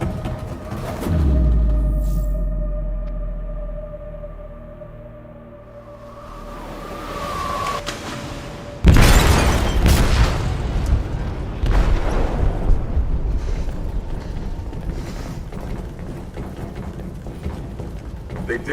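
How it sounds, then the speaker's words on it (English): An explosive detonates in the hold of a ship in Detroit: Become Human: a low rumbling backdrop, then a sudden loud blast about halfway through that leaves a heavy, sustained roar and rumble. "They detonated an explosive in the hold."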